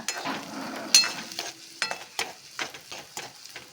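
Onions frying in a pan for a radish-greens stir-fry, heard as a quiet sizzle broken by scattered spatula scrapes and stirring clatter close by.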